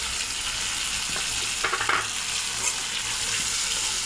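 A spice paste with ground tomato, ginger and cumin fries in oil, giving a dense close sizzle, and a few short scraping strokes of stirring come near the middle, with no talk.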